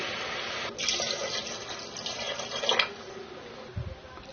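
Water runs and splashes steadily into a cooking pot of mutton curry for a few seconds, with a brief clatter near the end.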